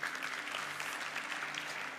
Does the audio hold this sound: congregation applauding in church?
yes